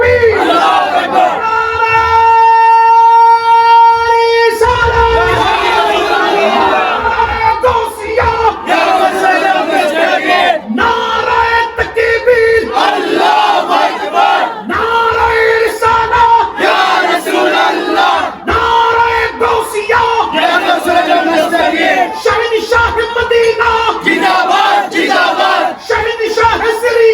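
Large crowd at a Bengali religious gathering roaring a loud chanted response in repeated waves, each answering a leader's call, with a short sustained tone at the start.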